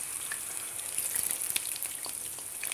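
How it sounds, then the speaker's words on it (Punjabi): Bitter gourds fry in hot oil with a bright, continuous hiss and sizzle, dotted with small pops and crackles, close and steady throughout. "ਹੁਣ ਆਪਾਂ ਆਪਣੇ ਕਰੇਲਿਆਂ ਨੂੰ ਕਰ ਲਾਂਗੇ ਫਰਾਈ"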